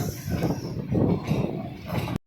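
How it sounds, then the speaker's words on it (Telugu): The Simhadri Express passes near Rajahmundry with a loud, continuous rumble and rattle of railway cars. Faint rhythmic wheel clatter runs under the noise, and the sound cuts off abruptly at the end. "రాజమండ్రి నుంచి ఏదో పాస్ అయిపోతున్నాం. ట్రైన్ ఏంటిది? సింహాద్రి ఎక్స్ప్రెస్."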